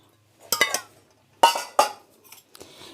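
A spoon mixing a milk and semolina batter for Bengali patishapta in a bowl gives several sharp clinks and scrapes against the vessel in uneven bursts, close by, with quiet gaps between them and no talking.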